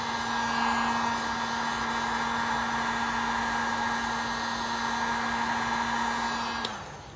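Heat gun blowing hot air onto vinyl tint on a car tail light of a 2021-2024 Kia K5, a steady close whooshing drone that cuts off abruptly near the end.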